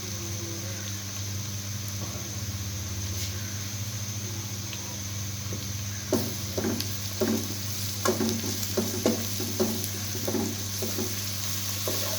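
Garlic sizzles in a hot pan for chana biryani under a steady frying hiss. Scattered scrapes and clinks from stirring grow more frequent in the second half. No one speaks.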